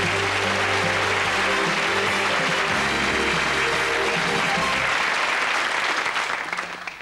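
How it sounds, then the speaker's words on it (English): Studio audience on a 1989 television game show bursts into loud, sustained applause over light music, holding steady for several seconds before starting to fade at the end. "give them all a big round of applause, they change their seats."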